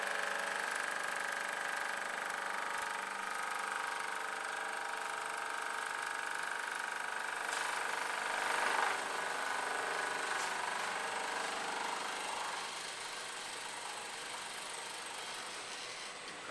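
A milling machine takes a light finish pass while squaring a metal block. It gives off a steady, moderately loud mechanical drone with a sustained whine and no talking, and the sound eases slightly toward the end.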